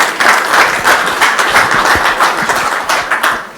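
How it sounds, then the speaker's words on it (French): Audience applause in a hall at a Swiss-Congolese business day event, a dense, steady patter of many hands clapping at close range, filling the room for several seconds with no talk over it. "Sous vos applaudissements, s'il vous plaît."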